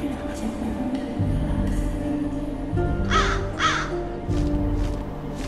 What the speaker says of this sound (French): Et le corbeau qui se barre.